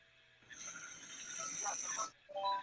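Someone's breathing carried over a voice call: soft, raspy, snore-like inhales and exhales close to the mic, one long drawn breath followed by a shorter one after a brief pause.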